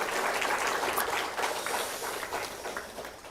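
Congregation at a Sunday morning church service applauding the choir, a dense wash of many hands clapping that stays steady and fairly loud before tapering slightly toward the end.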